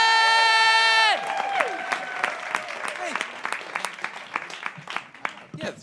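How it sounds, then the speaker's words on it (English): A comedy debate crowd bursts into applause and cheering as a sustained musical chord cuts off; the clapping stays busy with whoops, then thins into scattered claps toward the end. "Now start clapping now, please, for your first debater at Team T, Mr. Myq Kaplan!"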